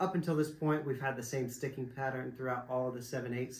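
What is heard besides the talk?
None of the usual background noises is heard.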